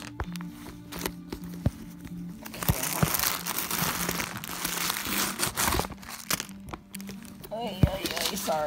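Packing paper being pulled out of a new Coach Eliza handbag crinkles and crackles loudly in bursts and sustained rustles, close by, with a hum in the background and brief speech at the end.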